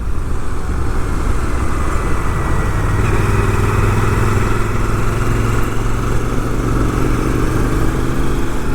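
A 2006 Triumph Scrambler 900 motorcycle cruises steadily, its low engine drone and road rumble constant and close throughout, with a slight rise in pitch partway through and no talking.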